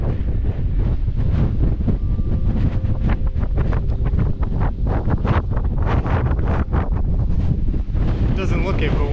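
Strong wind on an exposed Welsh mountainside buffets the microphone in heavy, continuous low rumbling gusts, loud and close throughout, with no clear talk.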